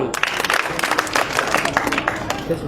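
Loud applause from a crowd at a public ceremony in Hisar, filling the space with dense, steady clapping and a murmur of voices underneath.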